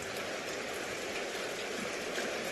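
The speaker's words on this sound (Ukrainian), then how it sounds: "От уже й дощ починається." Rain falls in a steady, even hiss of drops on a surface, broad and continuous, with no voices over it.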